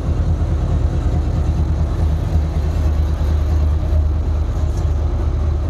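Honda VFR800 motorcycle from 2014 running on its center stand with gears engaged, a steady close mechanical engine drone with a low throbbing pulse, continuous and even throughout, with no talk.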